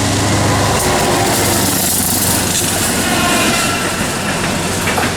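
Loud, rumbling roar of a freight train's locomotives passing close by, heavy engines droning with rattling wheels and steady clatter throughout.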